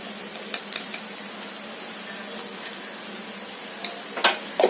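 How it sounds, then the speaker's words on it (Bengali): Spice paste fries steadily in oil for a tilapia curry as a pinch of mustard powder goes in, producing a soft, continuous sizzle with a few light clicks and stirring taps near the end. "মশলাটা ভাজা ভাজা হয়ে গেছে এবারে আমি একটু সর্ষে গুঁড়ো দিচ্ছি"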